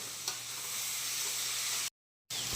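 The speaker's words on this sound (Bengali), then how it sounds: "মশলা যাতে পুড়ে না যায় অল্প একটু জল দিয়ে ভালো করে কষিয়ে নেওয়া হবে" Ground spices, including coriander and cumin, sautéed in a pan with a little water, giving a soft, low sizzle with a faint stir. It drops out into a brief silence before resuming.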